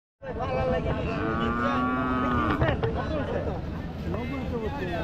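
Cattle low with long, drawn-out moos amid a crowded cattle market at Amraid, with people talking all around.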